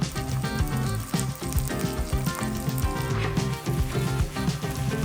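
A Korean chive pancake fries in a pan, giving a loud, dense, continuous sizzle with bubbling crackle throughout, close up and without talk.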